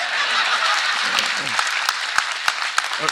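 Audience at a political speech in Tamil Nadu breaking into loud clapping and cheers, a dense burst of applause with a few sharp individual claps and shouts near the end.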